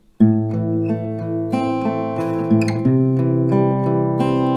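Short acoustic guitar intro to a song, a few ringing plucked notes and chord changes, close and solo with no voices.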